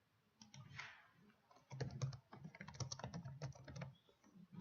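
Fingers typing a library catalog search on a computer keyboard, a close burst of quick, irregular key clicks that grows busier after a brief hesitant start.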